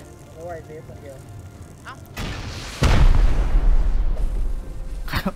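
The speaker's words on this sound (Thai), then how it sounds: "ยังปาระเบิดอีกเลย" Explosives detonate during a raid in the survival game Rust, where a sudden loud blast is followed by a sustained rumbling roar and a second sharp burst near the end, with faint game noise and voices beforehand.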